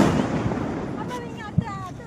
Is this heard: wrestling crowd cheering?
no